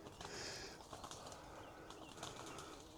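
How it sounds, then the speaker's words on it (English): Birds in woodland call and flutter at a distance, faint and scattered over a soft hiss of outdoor ambience, with no voices. "And some noisy birds."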